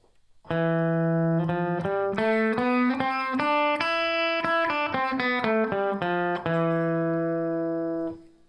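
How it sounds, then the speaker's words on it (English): A bright, distorted electric guitar plays an E Phrygian scale up and down, each note clearly picked, steady and loud. "So here, I'm playing an E Phrygian"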